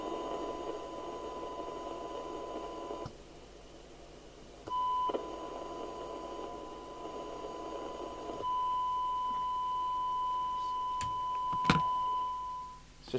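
Faulty Consam 1320 UK FM CB radio during service alignment, with the signal generator switched off: steady hiss broken by clicks, a sustained tone that stops and returns, then sharp crackles near the end, no voices.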